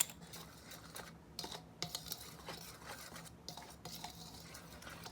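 Flour, baking soda and custard powder being mixed in a bowl produce light scraping and clinking strokes in irregular bursts, close and fairly quiet, with no voices.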